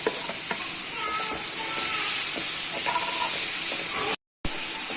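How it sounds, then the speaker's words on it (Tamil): Chopped onions and tomatoes sauté in a hot pan, a steady close sizzle with faint stirring scrapes throughout, broken by a brief silent gap near the end. "தக்காளியும் நல்லா வதங்கி வரணும். அது வரைக்கும் நம்ம நல்லா வதக்கிக்கலாம்."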